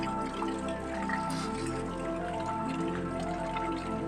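Rain dripping outside a village house after days of downpour, a dense patter of drops with a steady low hum underneath, close and continuous.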